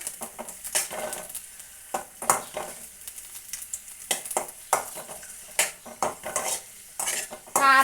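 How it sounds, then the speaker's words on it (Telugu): Green chillies fry and get stirred in a pan for a Telugu ridge gourd chutney, with irregular scraping spoon and metal clinks over a steady soft sizzle, close up and without speech. "పచ్చిమిరపకాయలు మంచిగా మగ్గించుకోవాలి."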